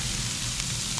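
Garlic sautéing in a hot pan for dinuguan, a dense continuous close sizzle heard alone without speech.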